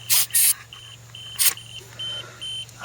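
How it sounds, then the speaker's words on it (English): An RV trailer's cheap tire pressure monitor sounding its alarm after a sensor is disconnected: a steady run of short, evenly spaced electronic beeps, with a few louder bursts of handling noise near the start. "the alarm's going off as I disconnected it"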